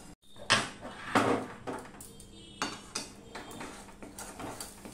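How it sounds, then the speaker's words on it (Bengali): Raw nut barfi mixture being stirred in a kadai, a spoon scraping and knocking against the metal pan in irregular clinks and scrapes, close and fairly loud, with no talking. "কন্টিনিউ এইভাবে আমি নাড়তে থাকবো।"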